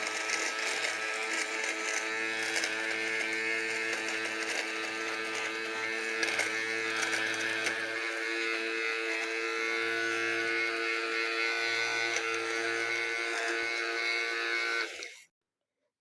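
A Deerma DEM-MQ600 electric lint remover running over fabric, a steady close high buzz with its low tone dipping in and out as it passes over the cloth, then cut off abruptly.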